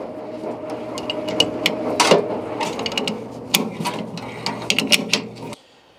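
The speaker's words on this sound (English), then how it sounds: "But now you got two wrenches on it." Metallic clicks and ratcheting of wrenches turning on the bearing of a washer trunnion, a run of sharp irregular ticks and clanks over a low steady hum, close by.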